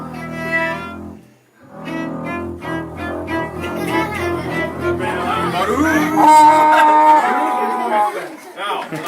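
A bowed string instrument, likely a double bass, plays a well-known theme at a live strings show, with low sustained tones building under crowd chatter and talk, rising into a bright held note near the end.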